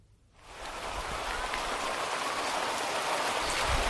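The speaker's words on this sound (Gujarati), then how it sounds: "રાજકોટ શહેરના લક્ષ્મીનગર વિસ્તારમાં ધોધમાર વરસાદ પડી રહ્યો છે" Heavy rain pours down in the Laxminagar area of Rajkot city, a dense, steady hiss of downpour that swells in after a brief quiet start and continues unbroken, with no voices.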